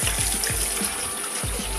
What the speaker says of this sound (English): there's a flush button and it flushes